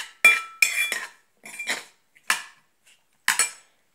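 A metal spoon scrapes and knocks around inside a pot in several short, separate bursts with silent gaps between them, close and clear, without talk.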